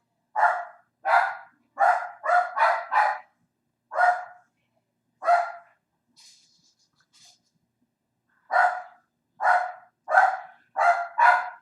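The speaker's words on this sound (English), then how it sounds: "you can hear my dog in the background" A dog barks repeatedly in clustered bursts, fairly close and clear, with a short pause in the middle before another volley of barks.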